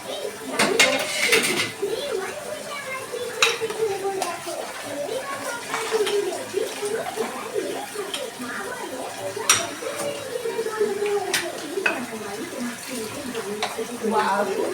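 Metal plates and a spatula clatter and scrape during washing at a home sink, with intermittent clinks and bursts of running water, close by, while someone talks over the dish sounds.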